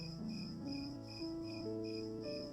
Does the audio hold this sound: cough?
no